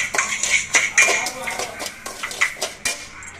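A spoon scrapes and clinks in a pan while sugar is stirred and melted for ravaladdu, bright metallic taps and scrapes coming in an uneven rhythm, close up, with someone talking over them.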